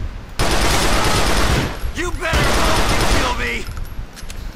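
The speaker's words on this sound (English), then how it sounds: "Tão escutando nossos tiros" Gunfire in GTA IV: The Lost and Damned, loud sustained bursts of automatic shots filling the scene, with a brief pause between two long volleys and a voice speaking over them.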